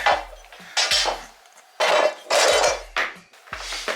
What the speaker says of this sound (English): I replaced the blade also on my cutter, and it actually now cuts super quick